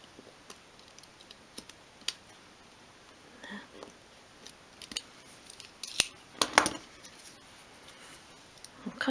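Small scissors cutting out a thin wood piece for a 1/12 scale bedside cabinet: sparse, sharp snips and clicks scattered irregularly, close and fairly quiet, with a brief cluster of louder cuts near the middle.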